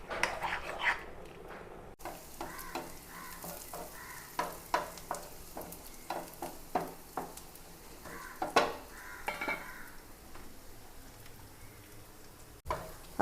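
Mustard seed tempering frying in hot oil in a home kitchen for a lunch dish, a steady sizzle with scattered sharp pops and crackles and light stirring clinks, close and fairly quiet.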